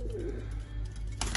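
A Turkish tumbler pigeon gives a soft, low coo close by, followed by faint rustling, in a quiet indoor loft setting.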